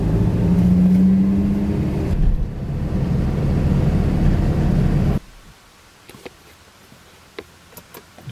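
A car passes on a dark street, its engine and tire noise rumbling loudly nearby before cutting off abruptly to quiet, scattered ticks and faint clicks.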